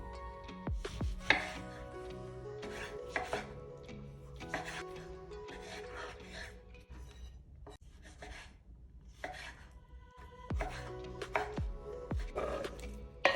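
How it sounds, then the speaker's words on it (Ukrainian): Repeated knife chops on a cutting board as half an orange is cut into cubes, irregular and close, with light rubbing and clatter between cuts. "Нарізаю кубиками половину апельсину."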